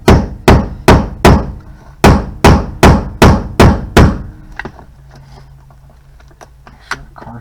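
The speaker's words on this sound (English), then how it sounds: "We'll get a hammer and see if I can knock that thing down." Sharp hammer blows knocking a bolt through a hole during a power seat install in a 2nd-gen Camaro, nine in a quick steady rhythm with a short pause after the third, loud and close, then quiet rustling and a faint tap.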